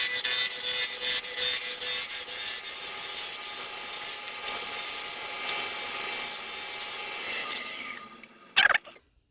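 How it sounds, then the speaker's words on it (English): A spindle roughing gouge scrapes the corners off a square wood blank spinning on a lathe, a continuous close rasping hiss that gradually smooths and fades, ending in a brief louder knock. "we're going to turn these corners away and turn this into a cylinder using a spindle"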